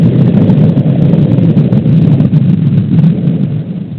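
A rocket engine roars at launch, a hydrogen-fuelled engine throwing up a huge cloud, heard as a continuous, very loud, dense low rumble with no break and no talking.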